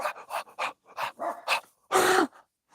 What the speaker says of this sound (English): that's what I hear when I hear the dogs just starting to bark like that